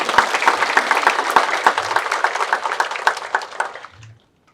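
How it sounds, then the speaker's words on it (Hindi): A large audience applauds in a hall to honour top-ranking medical students, dense loud clapping with sharp individual cracks that fades and stops near the end. "ताली बजाओ."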